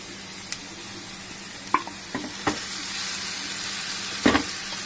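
Sliced radish frying in a pan over a low, steady sizzle, with a few sharp scrapes and clacks as a spoon stirs it, including a louder knock near the end.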